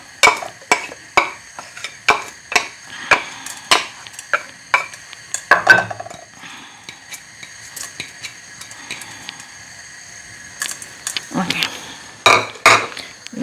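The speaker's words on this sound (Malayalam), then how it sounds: "അതിൻ്റെ അകത്തേക്ക് നമ്മൾ ഈ കഴുകി വെച്ചേക്കുന്ന നമ്മുടെ ഉലുവ നമുക്ക് അങ്ങോട്ട് ഇട്ട് കൊടുക്കാം" Washed fenugreek seeds go into a hot pan with a run of sharp, rhythmic metal scrapes and clinks as a spoon stirs them, a soft sizzle underneath, a pause in the middle, then more brisk stirring.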